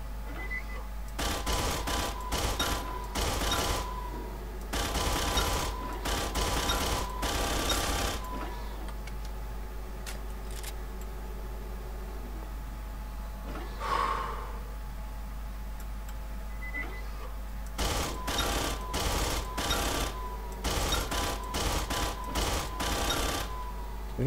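Rapid automatic gunfire at a shooting gallery in Aliens: Colonial Marines with an overhaul mod, loud clustered bursts in several volleys over a constant low hum, separated by a quieter gap in the middle.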